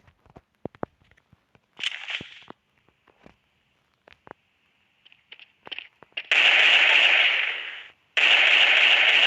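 Gunfire in a video game shooter: scattered single shots and sharp clicks early on, then two long sustained bursts of loud automatic fire near the end, with no talk during the shots.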